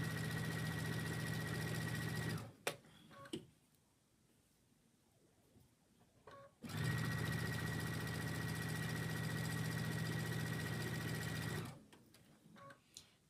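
An electric sewing machine run by a foot pedal while sewing cord for a chain pillow, stitching in two loud, steady bursts of about two and a half and five seconds with a quiet pause between them.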